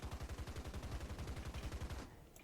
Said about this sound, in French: c'est plutôt une bonne mitrailleuse en fait. Et surtout, elle a un bruit excellent.